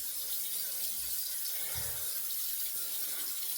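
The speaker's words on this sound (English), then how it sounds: "And what we'll do now is we'll just rinse off really well." Tap water runs steadily into a sink while a face is rinsed after a wet shave, a constant close hiss with brief splashing and no talking.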